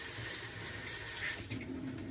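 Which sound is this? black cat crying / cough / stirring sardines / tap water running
tap water running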